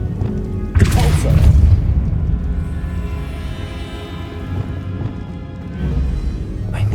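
The Convulso blast spell erupts in the wizarding game Hogwarts Legacy, a heavy booming burst with a crackling rush that settles into a lower rumble, followed by softer swells later on.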